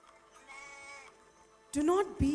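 Sheep bleats from children playing sheep in a school annual-day nativity play in Pune, a short wavering cry that rises loudly near the end over a quiet hall.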